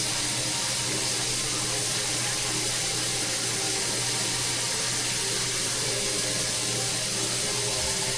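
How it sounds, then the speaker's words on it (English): Water pours steadily from a tap into a turkey brine, a continuous broad rushing stream that stays loud and even throughout with no talking. "So let's add our water to this brine."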